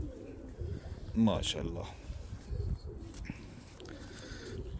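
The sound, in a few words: pigeons cooing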